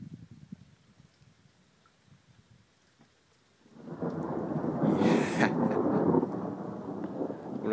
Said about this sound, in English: that was the thunder from that lightning bolt